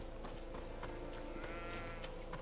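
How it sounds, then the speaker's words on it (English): Sheep bleat a few times at a distance over a steady synthetic background hum in the video game GreedFall, with no talking. "You can hear the sheep."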